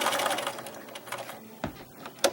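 A sewing machine runs a short burst of back stitching on fabric for a hot pad, close and moderately loud, fading into quieter handling clicks at the end.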